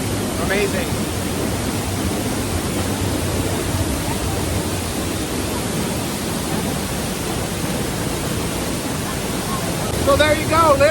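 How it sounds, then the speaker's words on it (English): Storseter Falls near Geiranger, Norway, roars steadily from close behind the falling water, a dense, unbroken wash of rushing noise that fills the whole stretch with little change in level. "So there you go, literally the backside of water. Storseter Falls near Geiranger, Norway."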